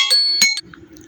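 Bright chiming phone notification tones ring out twice in quick succession, with a sustained tonal ding, during a Hindi talk, then fade to quiet low rumble.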